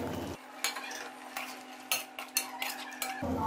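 Metal utensil scraping and clinking against a pan as tomatoes are stirred into chicken karahi, with several sharp taps over a steady low hum, close and fairly quiet, no voices.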